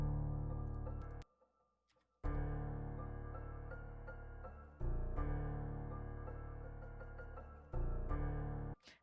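Plucked bell-like notes ring over sustained piano chords in a slow melody, with short gaps of near silence between phrases.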